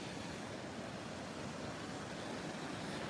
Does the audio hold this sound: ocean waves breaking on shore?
yes